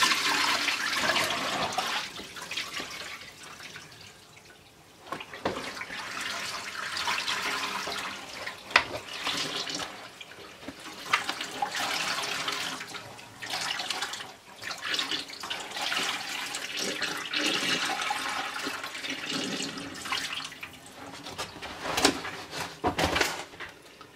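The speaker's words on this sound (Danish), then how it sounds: "Så hælder jeg vandet fra igen." Water pours off raw wool being washed, a long, continuous rushing and gurgling stream like a draining basin or flush, with surges and splashy bursts, close and fairly loud, no talking.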